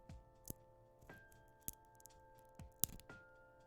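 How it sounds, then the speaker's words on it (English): Someone eating cornflakes close to the mic, with sharp, sporadic crunches at irregular intervals over a quiet indoor background and a faint steady hum. There is no talking. "it actually does pick up the crunching sounds"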